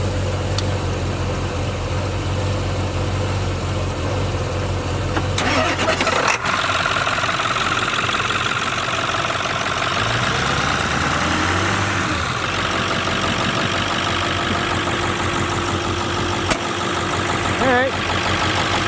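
An engine starts up on a repaired machine and settles into a steady, loud idle that runs throughout, with a brief shift in tone partway, while someone talks over it.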